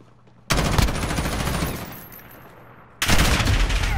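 Rapid automatic fire from an M13 rifle in Call of Duty: Modern Warfare, two loud sustained bursts with a short quieter gap between them, close and with no voices over it.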